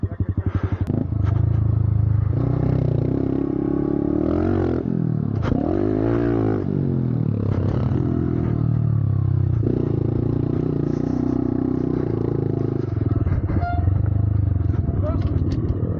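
A small pit bike motorcycle engine runs steadily for the whole stretch, revving up and down with a buzzy, close-up drone while people talk over it.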